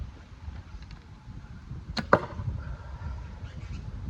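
A field-repaired Type 9 arrow leaves a bow and strikes a shield, making a sharp twang and a quick solid thud close together, loud and near over quiet outdoor background.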